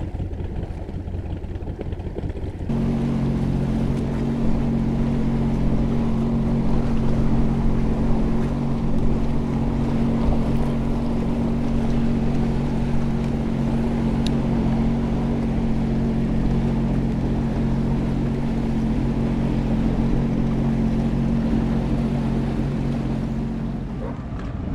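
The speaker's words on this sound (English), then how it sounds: "Listen to that engine." A Sea-Doo engine runs steadily for the whole stretch on Lake Muskoka near Port Carling, a loud droning hum with water and wind noise around it.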